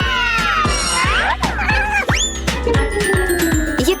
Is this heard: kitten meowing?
yes